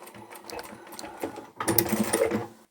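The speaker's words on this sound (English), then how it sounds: "I'll sew up as far as I can." A sewing machine stitches a fabric chemo cap in short mechanical bursts, then runs a longer, louder stretch near the end, with no talk over it.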